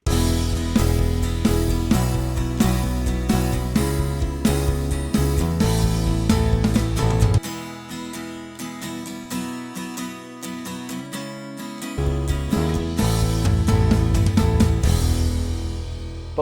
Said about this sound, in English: here's that guitar with two mics in stereo that we started with